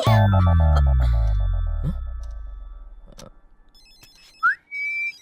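A telephone ringtone rings loudly and close, with sharp tonal strikes that slowly fade, then a short rising electronic chirp and a steady beep near the end.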